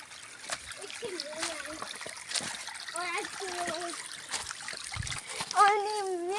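Clear water trickles and splashes in a village stream in Gorkha, Nepal, flowing steadily in the foreground while several people talk over it.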